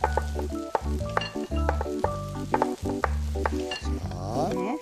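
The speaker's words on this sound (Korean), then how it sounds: "볶으시면서" Corn and broccoli stir-frying in a hot pan, a steady close sizzle broken by repeated scraping stirs and clacks of a utensil against the pan, with no talking.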